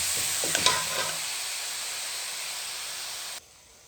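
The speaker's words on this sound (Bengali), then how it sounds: "আলু আর ফুলকপিগুলোকে দেওয়ার পর এভাবে কষিয়ে নেব।" Potatoes and cauliflower are stir-fried in a hot pan, giving a steady close sizzle and hiss with a few scraping stir sounds at the start before the sound cuts off abruptly.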